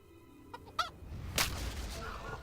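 A chicken in the video game Kingdom Come: Deliverance lets out a few sharp honking squawks after a trebuchet shot, followed by a soft thud and a burst of noise, with faint calls trailing off.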